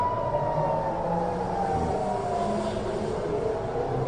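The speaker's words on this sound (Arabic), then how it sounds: "وهذا سماع دوي صفارات الإنذار" Air raid sirens wail steadily in the distance during an Iranian ballistic missile strike on Tel Aviv, a sustained rising and falling tone over a rumbling background.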